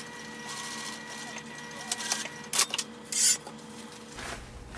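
A sewing machine backstitches across the elastic casing of a small fabric pouch, giving a steady mechanical whir broken by a few short, louder bursts of stitching near the end, with no talking.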